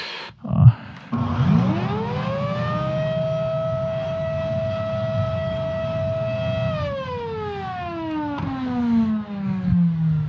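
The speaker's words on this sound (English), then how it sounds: "let's just fire it up. Let's see how bad it sounds, because these have just horrible sounding motors" Worn-out motor of a Kenmore Progressive bagless upright vacuum, model 116.36932, starting up with a rising whine, holding a loud steady tonal drone, then winding down in pitch as it switches off.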